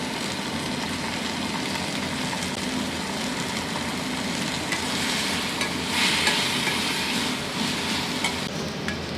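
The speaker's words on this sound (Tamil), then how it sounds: "நல்லா ஸ்லோவில் வறுக்கணும்." Turkey berries (sundakkai) slow-roasting in a pan over low heat, giving a continuous, even crackling sizzle with light stirring and a faint low hum beneath.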